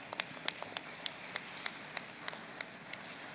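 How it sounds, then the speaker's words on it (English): Sparse scattered clapping from a small audience at a disaster risk reduction session, faint and distant, with individual claps standing out irregularly over a quiet room. "Let us give them a round of applause."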